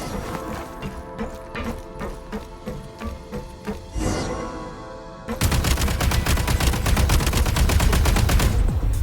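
Steady mechanical clicking gives way to a loud, dense burst of continuous automatic gunfire in Genshin Impact, close and unbroken for several seconds with no voices.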